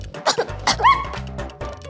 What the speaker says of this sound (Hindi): धूल है तो खांसी तो आएगी ना।